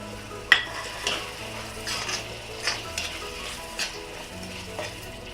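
Potatoes and cauliflower fry in an iron kadhai over a medium flame, with a steady soft sizzle. A spatula scrapes and clinks against the pan in irregular strokes throughout.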